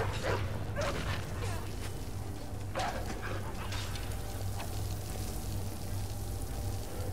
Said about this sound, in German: Der Hund läuft immer nur um mich herum.